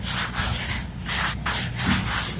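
Close brushing and rubbing sweeps over the freshly cut top of a chinkapin stump, clearing away sawdust in a steady back-and-forth rhythm with brief pauses, moderately loud and with no speech.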